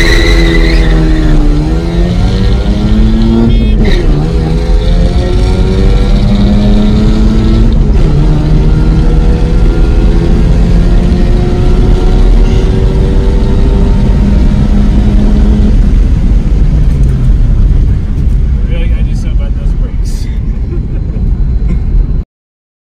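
A Mazda NA Series 4 FC 6-port rotary engine on an engine stand revs hard and very loud, its pitch sweeping up and down through repeated throttle blips with a raspy, buzzing drone throughout.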